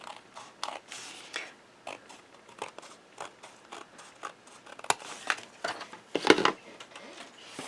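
Scissors trimming the bottom edge of a die-cut paper greeting card, a series of quiet close snips and crisp paper cuts in uneven rhythm, with a sharper crunch near the end.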